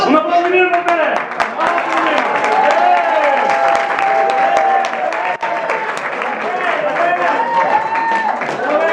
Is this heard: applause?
yes